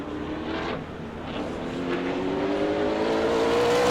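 A race car finishes a qualifying lap at New Smyrna during an ASA Southern Super Series event, its engine a loud, steady roar that rises in pitch as it powers off the final turn, with no voices over it.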